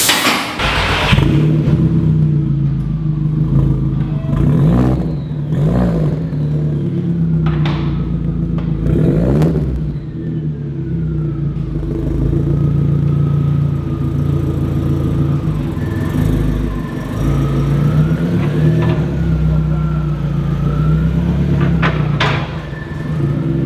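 A tuned car with a custom exhaust, downpipe and manifold, rumbles steadily nearby with a deep low drone, with occasional clatter and a few brief revs over about twenty seconds.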